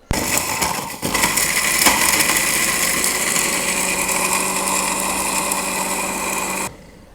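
An electric grinder runs steadily for about six seconds, whirring loud and close as it grinds ingredients for Bihari beef handi, then cuts off abruptly.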